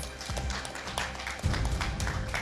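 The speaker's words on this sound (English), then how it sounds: "A round of applause for yourselves." Four young rap finalists on a kids' talent show clap for themselves in a brief burst of scattered, close claps, with music and stage noise underneath.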